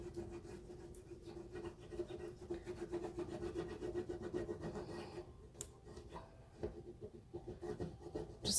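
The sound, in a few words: rubbing a transfer hard onto a window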